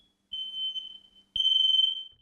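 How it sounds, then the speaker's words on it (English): A residential smoke detector set off by a firefighter gives two shrill, piercing beeps, a short one then a longer one, close by in an otherwise quiet room. "then a Kuna firefighter sounds the alarm"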